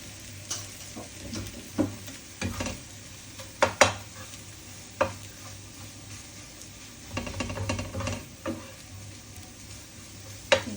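Scrambled egg for baby food cooks in a hot pan, with a faint steady sizzle under frequent scraping and tapping stirs, close by and with no one speaking.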